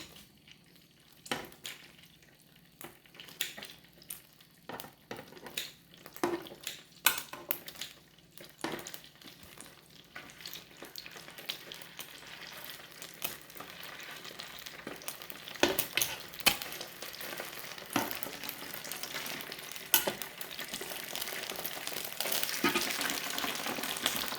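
Chicken frying in a pan, with steady sizzling and scattered sharp pops and crackles that grow denser and louder toward the end, heard close up with no talking.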